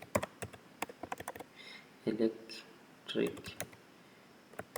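C++ code is typed on a computer keyboard in quick, close clicky keystrokes that come in short runs with pauses. A few brief vocal sounds occur in between.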